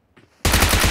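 Loud, close automatic gunfire from a BGMI battle royale match erupts abruptly after a near-silent moment and keeps up as a dense, continuous burst.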